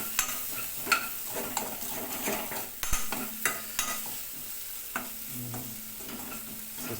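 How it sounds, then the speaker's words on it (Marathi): A spice mixture with red chilli powder for katla fish curry is stirred in a hot pan, with repeated scraping strokes and sharp utensil taps over a continuous soft sizzle. "हे सर्व तुम्ही मिश्रण हलवून घ्या, छानपैकी असं हलवून घ्या"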